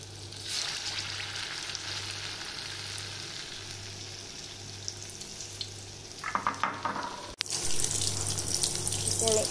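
Sukhiyan balls deep frying in coconut oil over a medium flame, a constant soft sizzle with a low hum beneath it, broken near the end by a brief clatter and a louder burst of bubbling.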